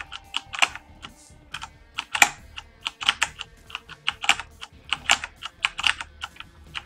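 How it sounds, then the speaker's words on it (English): Rapid keystrokes clatter on a new computer keyboard, an uneven stream of sharp, close clicks with brief pauses between bursts and no voices. "I'm still getting used to the new keyboard"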